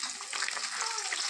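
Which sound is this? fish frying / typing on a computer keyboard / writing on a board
fish frying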